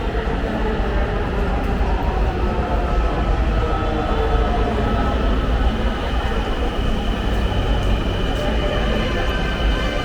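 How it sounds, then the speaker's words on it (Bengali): A Dhaka metro train pulls into Mirpur 10 station with a loud, steady rumble and rushing roar that fills the platform at close range, holding constant throughout. "তারপর আমাদের ট্রেন চলে আসে।"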